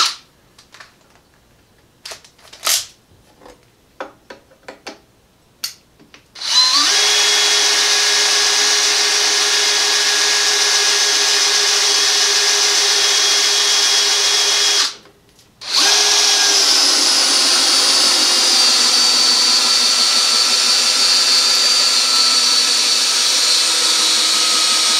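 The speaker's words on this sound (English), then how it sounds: "This is an 8-inch timber lock screw. Let's go ahead and see if we can't drive that in there without any issue as well." Craftsman 20v brushless hammer drill driving an 8-inch timber lock screw: a few clicks and taps, then a steady loud whine for about nine seconds, a brief pause, and another sustained run.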